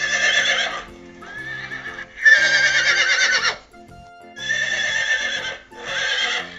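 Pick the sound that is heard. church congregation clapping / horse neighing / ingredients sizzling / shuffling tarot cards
horse neighing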